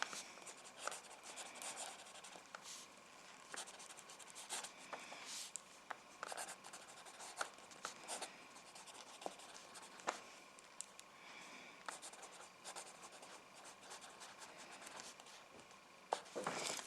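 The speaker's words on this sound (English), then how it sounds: "I need to write something." A fine liner pen scratching across paper, close and quiet, in steady strokes with short pauses and small taps over about seventeen seconds.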